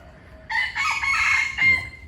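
A rooster from a neighbouring house crows once outdoors on a fresh morning in front of a home, the call loud and fairly close, rising and holding for about a second before a final dropping note.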